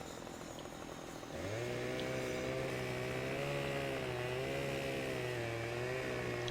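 A chainsaw in the Farming Simulator 15 video game cuts treetops. Its buzzing engine drone revs up sharply after a second and then holds a loud, continuous whine that rises slightly in pitch.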